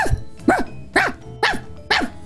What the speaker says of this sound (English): My dog just barked once.